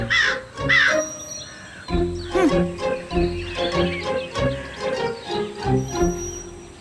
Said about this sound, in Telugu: ఈ కాకుల గోల నేను తట్టుకోలేకపోతున్నాను